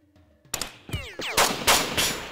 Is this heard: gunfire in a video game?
yes